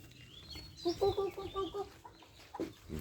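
A chicken clucks in a short burst of rapid, close, fairly loud clucks, followed by a single softer cluck after a brief pause, with faint background noise.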